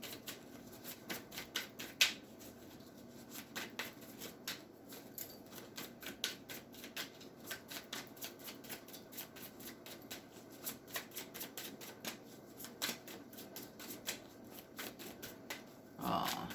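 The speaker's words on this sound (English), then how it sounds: "I'm gonna pull a card." Tarot cards being shuffled and pulled make quiet, rapid flicking and snapping sounds in an irregular rhythm, close by.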